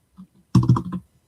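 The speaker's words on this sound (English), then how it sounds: "I've got a new keyboard." A brand-new computer keyboard clatters under a short burst of quick, close keystrokes, loud and clear against near silence.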